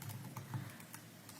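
Computer keyboard typing a command, a handful of quiet, close keystrokes in an uneven rhythm over a low steady hum.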